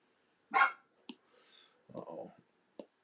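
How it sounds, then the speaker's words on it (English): A dog barking a few times indoors, reacting to another dog outside, with short scattered barks and yips spread across a quiet room. "The dog hears the other dog barking outside, the neighbors."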